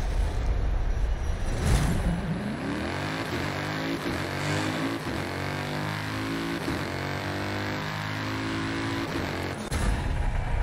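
Car racing in Forza Horizon 5: a steady, loud engine drone climbs through repeated gear-change sweeps, revving up and shifting several times, with brief pauses between pulls and no talking.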